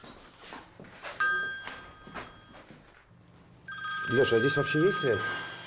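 A phone rings in the abandoned ghost town of Pripyat, Ukraine, two bright electronic ringtone bursts close by, the second louder and longer, with people talking around and over it.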